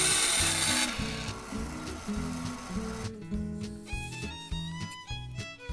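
A hand saw cutting wood toward a marked line, rough rasping back-and-forth strokes in a steady rhythm, close and loud, with a faint ringing tone emerging in the later strokes; no talk.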